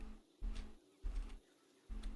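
Ambient birdsong in the strategy game Total War: Warhammer 3, with three or four soft, low cooing bursts at a steady rhythm and faint chirps above, quiet and alone.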